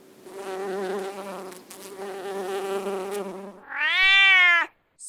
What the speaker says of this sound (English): Boris the bee buzzes between big bright blooms.